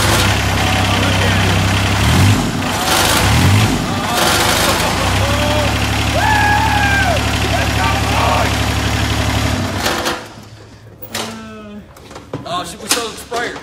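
A small, roughly 24-horsepower engine that gives off a little smoke idles with a steady low throb, close and loud, with a person talking over it. It cuts out near the end, leaving quieter clanks and voices.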